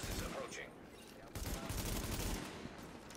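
Rapid automatic gunfire from The Division beta, a third-person shooter, crackling in dense bursts through most of the stretch, loud and close, with a brief dip before a heavier second volley.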